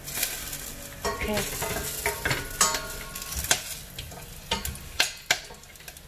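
Cloves and bay leaves hit preheated oil in a pot, giving a steady close sizzle broken by sharp metallic clinks and stirring scrapes; one brief spoken word.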